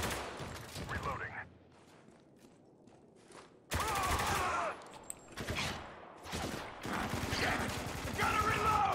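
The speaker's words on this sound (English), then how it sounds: "Taking heavy fire." Heavy gunfire in the video game Spec Ops: The Line on Suicide Mission difficulty, dense bursts of rapid shots and automatic fire coming in loud waves with short lulls between, alongside voices.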